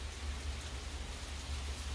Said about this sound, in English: oh, a nice rain, that's fun. That's a nice sound